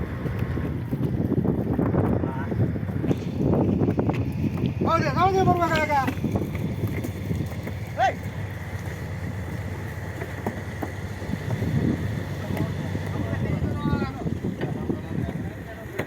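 Wind buffets the microphone over a low engine rumble on open water, with people talking and calling out nearby.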